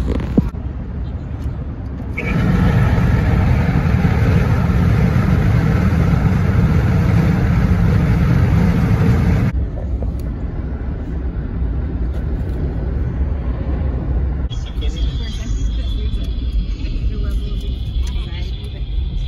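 Car cruising on the highway through Cincinnati, Ohio, a loud steady road and engine roar from inside the cabin that swells and shifts tone partway, with a high whine appearing later.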